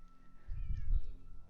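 A cat lets out a loud, drawn-out scream, a yowling caterwaul that swells in the middle and then fades, heard alone without talk.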